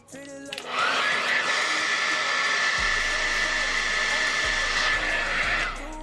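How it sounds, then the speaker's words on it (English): A hair dryer blowing on someone's hair: a loud, close, continuous whirring roar with a steady high whine that starts after a brief click and runs for several seconds, with a few low bumps beneath it. "So I feel like we're gonna go dry my hair"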